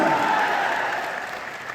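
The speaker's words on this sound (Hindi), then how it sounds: "आप बधाइए ताली है कि नहीं है?" A brief burst of audience clapping fills a packed Bapu Sabhagar hall in Bihar at a Jan Suraaj political rally, loud at first and then tapering within two seconds.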